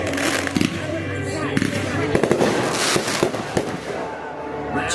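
Fireworks burst repeatedly over a baseball field at a crowded outdoor event, sharp cracks and pops scattered through a continuous crackling din, with people talking and exclaiming in the background.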